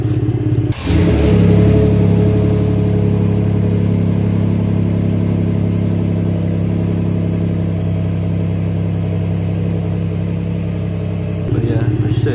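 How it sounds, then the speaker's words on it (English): A 2020 Ford F-150 2.7 EcoBoost pickup with an MBRP catback exhaust fires up from cold after a brief crank and settles into a loud, deep, steady idle rumble close by, with speech faintly underneath. "I'll put a clip of a cold start"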